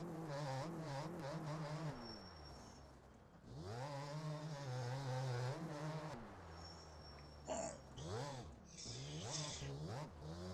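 A dirt bike in the video game MX Bikes revs again and again, its engine pitch climbing and dropping in waves, with shifts and brief gaps between pulls. The sound is steady and close, with faint talk in places.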